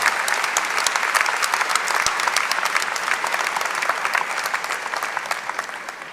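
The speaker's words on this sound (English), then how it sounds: "How about a round of applause for an in-person convocation?" Steady applause from an audience at an in-person university convocation ceremony for 2022 graduates, a dense even patter of clapping that carries on throughout without voices over it.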